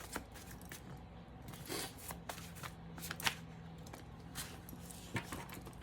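A deck of tarot cards is riffled and shuffled in quick, close, crisp flutters, and single cards are drawn with soft snaps. The sounds come in irregular bursts with no talking.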